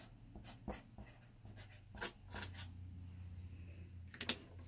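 A marker squeaks and scratches in short strokes while drawing an oval on a Kawasaki KV75/MT1 engine part, quiet and close, over a low steady hum.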